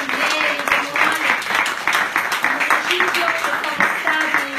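Audience applause at an Italian Democratic Party (PD) gathering, honoring municipal presidents and councillors. Loud, sustained clapping from a sizable crowd with individual claps audible throughout, and a few voices mixed in.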